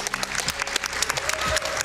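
A crowd claps steadily at a live speedrun marathon event, dense continuous applause filling the room at a close, loud level with no voices standing out.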